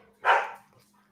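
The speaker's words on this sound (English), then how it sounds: "My dogs are attacking each other." A single sharp dog bark bursts out during a fight between dogs, loud and close against a quiet background with a low hum.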